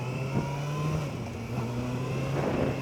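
A Kawasaki ZX6R motorcycle engine warms up with a steady, close idle hum and a few light rises in pitch, with no voices over it.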